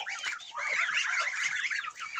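A duck on a farm calls out, a short run of loud, close, raspy quacking notes lasting about two seconds with no talk over it.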